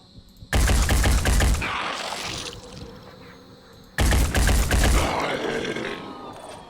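Two loud close bursts of rapid automatic gunfire in the tactical video game Phoenix Point, each a dense rattling volley lasting over a second before trailing off into a fading echo.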